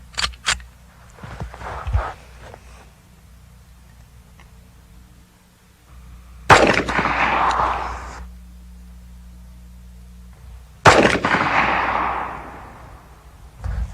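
A .45 pistol firing 230-grain full metal jacket hardball ammunition gives two loud, sharp reports several seconds apart, each with a lingering ringing tail, after fainter handling clicks.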